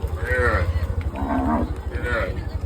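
A cow moos loudly and close by, heard from inside a moving vehicle, several drawn-out calls one after another over a low engine rumble.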